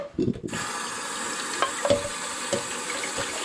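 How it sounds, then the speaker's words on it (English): Cold tap water runs steadily into a kitchen sink, rinsing cooked macaroni noodles with a continuous rushing hiss and a few faint clinks, after a brief sound at the start. "rinse them off with cold water"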